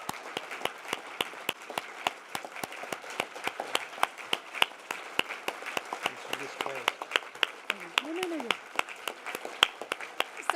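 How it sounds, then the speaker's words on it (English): Applause for the 15th California Hall of Fame class at a formal ceremony: a large audience claps in a steady dense patter for about ten seconds, with a voice briefly rising through the crowd. "let's give another round of applause to the 15th class of the California Hall"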